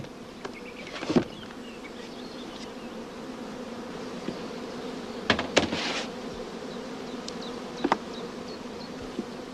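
Honeybees buzz around hive supers in a steady drone, with individual bees zipping close past now and then in louder brief passes, no talk.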